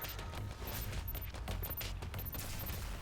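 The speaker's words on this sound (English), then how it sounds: "Yeah, rocket hit." Rocket hits in the sci-fi video game Starward Rogue crackle as a dense, rapid barrage of blasts and bursts that stays loud and continuous for a few seconds, with no speech.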